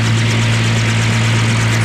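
A helicopter engine runs loud and close in a steady, droning roar with a strong low hum and faint rotor pulsing throughout, no voices over it.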